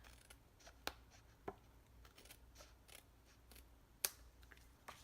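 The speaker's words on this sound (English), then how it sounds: "I'm going to take my snips and trim it" Small metal snips trimming a strip of paper for a handmade card, heard as a few sharp, separate clicks and snips spaced across a quiet room, close by and fairly soft.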